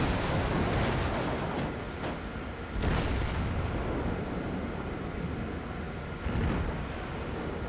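Warships fire their guns in a naval video game, with a few deep booming shots and rolling rumbles over a constant loud background roar.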